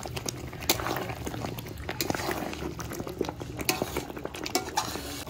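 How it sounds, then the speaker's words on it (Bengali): Fried prawns go into a masala gravy in a pan and are stirred, with irregular scraping and clinking of a spoon against the pan and soft wet thuds, fairly close and moderately loud. "এখন দিয়ে দেবো আমার ভাজা চিংড়ি মাছ।"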